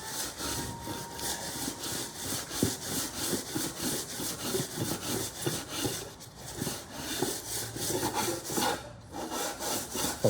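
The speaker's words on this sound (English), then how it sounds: "lay it down and just let the material do all the sanding" Wood blocks for cheap DIY block decking are sanded by hand with light, sideways strokes, producing a continuous rhythmic scraping and rasping that stays close and fairly loud throughout, with no talking.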